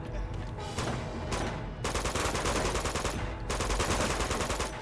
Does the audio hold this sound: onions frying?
no